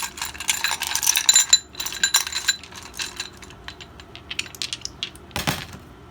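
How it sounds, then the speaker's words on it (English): Dice rattle and clatter during a tarot-style card reading, with a burst of clinking shakes followed by scattered lighter taps and one final sharp clatter. The sounds are close and have no talk over them. "we're going to roll some dice"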